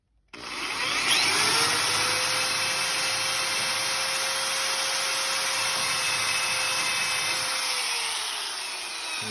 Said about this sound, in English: So what I'm going to do is I'm going to drill it.